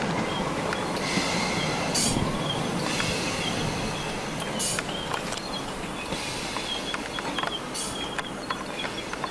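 A British Rail Class 321 electric multiple unit passes on the West Coast line near London, making a continuous loud rush of wheels and motors, with rhythmic rail-joint clicks and faint squeals across the whole pass.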